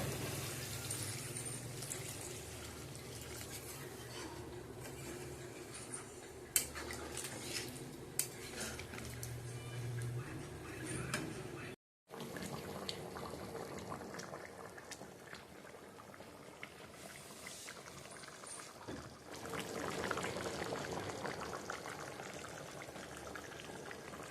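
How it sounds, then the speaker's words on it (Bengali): Water poured into a pan of sautéed meat curry and left to boil, a faint steady bubbling simmer with occasional soft clinks of a utensil against the pot and a brief dropout midway. "মাংস কষানো কমপ্লিট এবার পরিমাণ মতো জল দিয়ে দেওয়া হচ্ছে"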